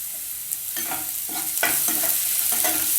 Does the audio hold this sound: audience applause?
no